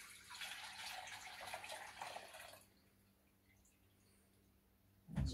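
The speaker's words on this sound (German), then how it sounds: "Da gieße ich den Sud jetzt einmal durch." Broth poured through a sieve lined with a kitchen towel into a bowl while making a zucchini dish: a steady, fairly loud liquid splash for about two and a half seconds, then it stops, leaving quiet room tone and a brief knock at the end.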